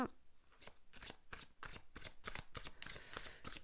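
Tarot cards are shuffled steadily, a rapid run of papery riffles and taps repeating in quick rhythm, close and fairly quiet.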